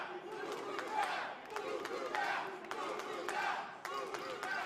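A big crowd at a wrestling pre-show in New Orleans roars and cheers in swelling waves, with scattered claps and shouts, heard at a distance and steady throughout.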